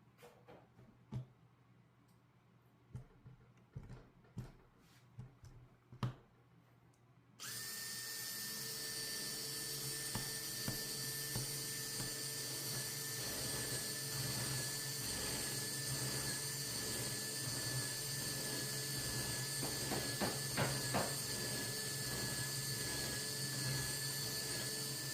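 Mortise Mate power tool cutting loose tenons in wood: scattered handling clicks and knocks, then the motor starts and runs as a loud, steady whine with grinding cutting noise.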